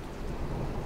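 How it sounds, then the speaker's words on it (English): Thunder from a lightning storm over Blackpool, a steady low rumble with a wash of rain noise, fairly distant and unbroken through a brief moment. "We don't often get a big storm in Blackpool."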